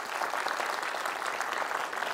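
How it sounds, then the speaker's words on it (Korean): Audience applause at a parenting talk concert in Gwangju, steady dense clapping from a seated crowd that fills the whole moment at an even level. "박수 부탁드립니다."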